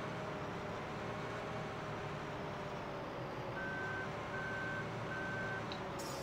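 Truck reversing alarm in the Farming Simulator 15 video game, a series of three steady high beeps repeating at an even rhythm over a constant droning engine and ambient game background.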